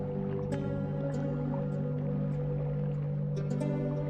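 In the video game Memoria, water drips at an underground lake, scattered soft plinks over a steady low humming ambience, with no voices.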